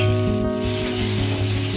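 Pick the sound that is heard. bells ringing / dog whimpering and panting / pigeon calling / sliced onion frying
sliced onion frying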